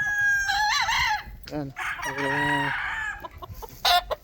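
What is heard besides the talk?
gamefowl roosters crowing and clucking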